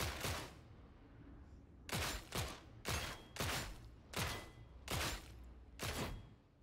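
Las pistol fire in the video game Darktide, seven or eight sharp, separate shots at a slow, uneven pace, each a crisp burst with a short tail, fairly faint overall.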